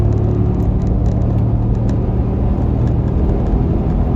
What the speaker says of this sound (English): this car is moving